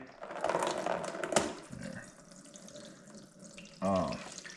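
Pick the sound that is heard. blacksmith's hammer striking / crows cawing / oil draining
oil draining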